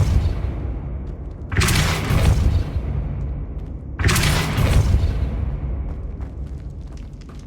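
Two loud booming blasts of the Depulso spell in Hogwarts Legacy, each a sharp burst followed by a long rumbling decay, about two and a half seconds apart over a low game ambience.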